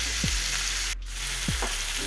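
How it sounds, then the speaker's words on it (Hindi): Onions frying in a pan for a tomato-onion sabzi, a steady close sizzle throughout with two brief utensil scrapes and a short dip in the crackle midway. "प्याज को हम अच्छे से गोल्डन ब्राउन होने तक फ्राई करेंगे।"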